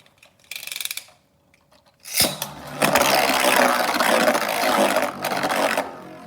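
Hand-spun Beyblade tops, Wizard Fafnir against Achilles, clash in a plastic stadium: a few light clicks, then a sharp launch and a dense, steady metallic whirring and scraping that rattles on for several seconds.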